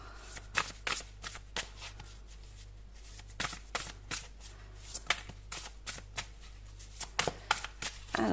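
Tarot cards are shuffled by hand in a quick run of crisp riffling bursts and soft slaps, close and fairly quiet over a low steady hum, with no voice.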